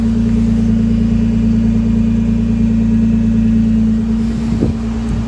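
A Nissan GTR R35 engine running just after starting, a loud steady low idle with a constant hum and gearbox whine, briefly shifting near the end.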